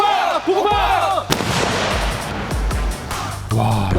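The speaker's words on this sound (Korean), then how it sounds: "발파기 장착. 자, 빨리 장착. 폭파! 폭파! 폭파!" Explosive ordnance detonations during an air force EOD disposal training exercise: a sharp, loud blast followed by rumbling debris and echoing booms, with a shouted voice at the start and another after.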